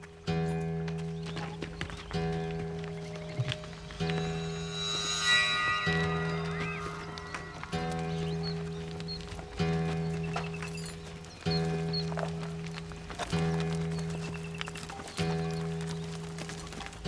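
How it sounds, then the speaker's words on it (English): Donkeys and camels walk to the Erda wells in Borana country, their hooves clip-clopping in a steady plodding rhythm at moderate distance, with occasional animal calls and faint bell-like tones over the steps. "Accompanying donkeys and camels, ready to be loaded with the water needed for survival"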